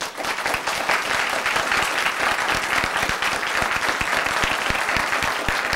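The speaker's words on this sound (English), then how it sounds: "please do not interrupt us by this applause" An audience at a school board meeting claps in sustained, dense applause throughout, many hands at once, loud and near, with no distinct voices.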